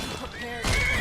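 A horse whinnies in the video game Skyrim, a short neigh that rises louder toward the end, heard alone at close range.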